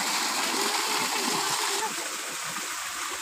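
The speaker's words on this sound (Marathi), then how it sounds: "ते उपलटीचं पाणी असं येत आहे" Natural spring water gushing out of the ground in the Konkan countryside after rain, a steady close splashing flow with someone talking over it.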